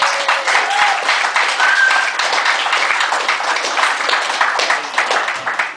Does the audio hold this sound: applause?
yes